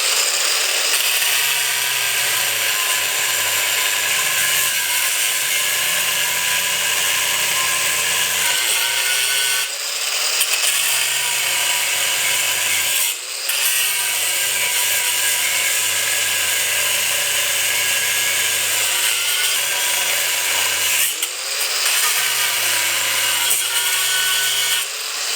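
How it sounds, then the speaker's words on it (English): A grinder fitted with a cutting blade cuts the top off a part during a YZ250 clutch install, a loud steady whine broken by brief pauses as the cut repeats, with no talking. "I like using the cutting blade because it cuts the top off a lot faster to me."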